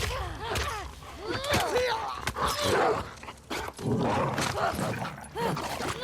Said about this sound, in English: I'm not good at dodging dogs.